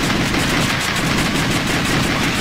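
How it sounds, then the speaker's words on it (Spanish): Dense continuous rattle of rapid gunfire from The House of the Dead II arcade shooter game, loud and unbroken throughout. "Qué disparo."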